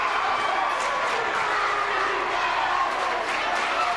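Basketball arena crowd at a Holy Cross versus Sacred Heart college game roars and cheers steadily after a dunk, a dense, sustained wash of voices filling the space without letting up.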